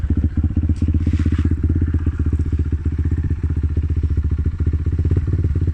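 A motorbike engine putters steadily as it rides along in rural Australia, with a rapid throbbing rhythm and occasional clatter and bumps.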